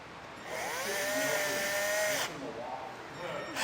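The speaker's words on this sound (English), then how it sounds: "We can then grab our self-tapper and make that" A power drill drives a self-tapping screw to make a trailer wiring ground connection, giving a close, rising whine for about two seconds before cutting off, with low background noise around it.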